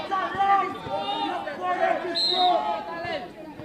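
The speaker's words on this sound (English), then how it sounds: "The crowd is shouting, change the score." Volleyball crowd at a boys' school games match between Grenada and St. Vincent, shouting and chanting in a dense, lively hubbub with a commentator's voice over the top.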